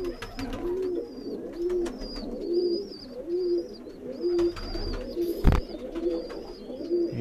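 A slate-grey pigeon, an old bird kept in a loft, coos in a steady repeating rhythm of low rounded calls, close and clear, with occasional higher chirps from other birds and a brief knock midway.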